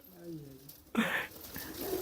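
Pigeons cooing inside a large loft, a soft throaty coo joined by bird calls and rustling, with people talking close by and loudly over the birds.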